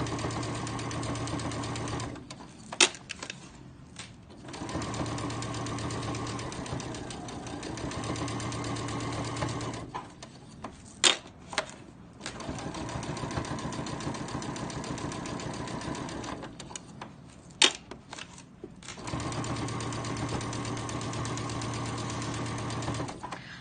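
Sewing machine stitching through three layers of a pillowcase, running in several steady bursts of close mechanical whirring separated by short pauses with clicks and handling noises.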